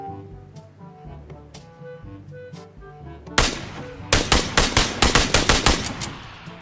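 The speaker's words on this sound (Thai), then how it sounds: "ซึ่งหลายท่านก็รู้นะครับว่าปืนเนี้ยมันยิงได้แต่แบบนัดเดียวเดี๋ยวแอดจะยิงให้ดูก่อนเลย" An SKS rifle fires in the PUBG video game after a stretch of quieter in-game tones, with a quick run of about a dozen sharp shots in close succession.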